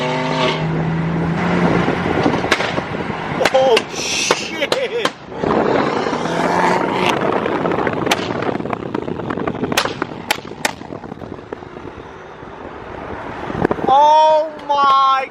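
Very loud modified BMW M3 exhaust roaring and crackling with sharp pops and bangs, close and harsh over about fifteen seconds, with excited voices shouting over it.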